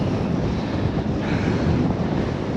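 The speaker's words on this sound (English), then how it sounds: "It is insanely windy" Strong wind roars across a sand dune on Moreton Island, loud, constant buffeting rumble against the microphone with no pauses, and no voices.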